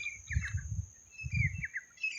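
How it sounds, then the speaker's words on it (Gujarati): Small birds chirp in short bright bursts, fairly close, with a steady high whistle and low rumbling noise underneath. "પશુ પક્ષીનો કિલ્લો સંભળાય છે"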